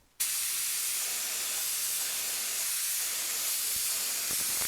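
Paint sprayed onto John Deere 318 lawn tractor parts, a steady unbroken hiss that starts abruptly and holds close and loud throughout, with no voices.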